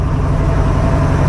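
Low, heavy rumble of a car with a 347 stroker engine under way, heard from inside as a steady, loud drone with no rise or fall.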